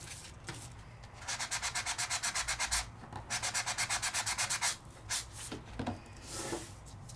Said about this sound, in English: I can just sand it till my heart's happy.